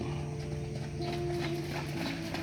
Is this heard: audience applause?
no